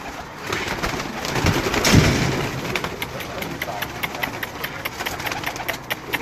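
Someone's flying pigeons on a rooftop coo and shuffle close by, with rhythmic fluttering and cooing under someone talking nearby.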